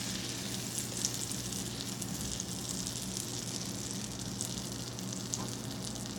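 A slice of bread fries in melted butter in a pan for grilled cheese, giving a steady, even sizzle that stays level throughout with no talking.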